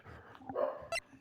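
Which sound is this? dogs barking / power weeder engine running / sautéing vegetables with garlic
dogs barking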